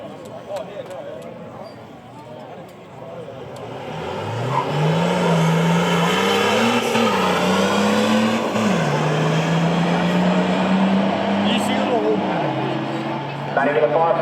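A turbocharged drag racing car launches down the strip, its engine rising to a loud, sustained roar with stepped pitch climbs through the gears, a commentator talking over it at the start.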